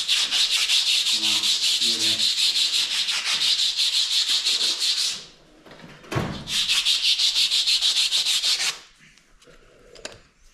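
Rapid back-and-forth strokes of emery paper rubbing hard on a surface, loud and close, in two long bursts separated by a short pause and a dull knock.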